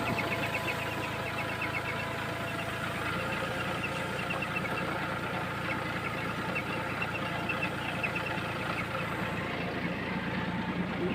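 A Farmtrac Atom 26 HP tractor engine runs steadily in a pomegranate orchard while clearing debris, a continuous close mid-pitched rumble with a slight knocking pulse and no break throughout.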